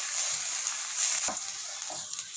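Onions sizzle in a pan as they are sautéed with a handful of coriander leaves, giving a steady, close frying hiss with a faint stirring scrape near the middle.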